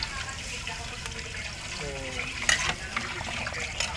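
Yellowish broth pours and splashes into a cooking pot, a soft steady gush with faint sizzling and clinks, while a person talks in the background.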